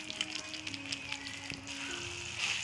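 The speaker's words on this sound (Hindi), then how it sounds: "अब सभी को मिक्स कर लेते हैं और अच्छे तरह से भून लेंगे हम मसाला को और प्याज को सभी को एक साथ" Masala and onions frying together in a pan for a soybean curry with yogurt, a faint steady sizzle with soft crackles and a low background hum, no talking.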